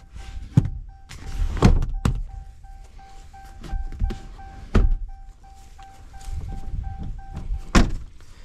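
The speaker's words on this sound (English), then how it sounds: "Both doors do open very nicely." Doors of a 2013 Ram crew cab 4WD pickup with a Hemi open and shut, giving several separate thunks and latch clicks spread across the stretch against a quiet background with a faint steady tone.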